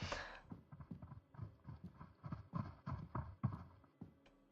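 Rapid running footsteps of a monster chasing the player in a horror video game, a steady pounding rhythm of heavy thuds close by across the whole stretch, with a few faint voices mixed in.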